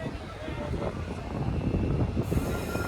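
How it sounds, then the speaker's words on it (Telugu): A Sabari Express train (17230) on the Coimbatore–Kollam route creeps along slowly, heard from inside a general coach: a steady, close rumble with rattling wagons and faint wheel squeal, with low voices in the background. "మన ట్రైన్ అయితే మెల్లగా మూవ్ అవుతుంది"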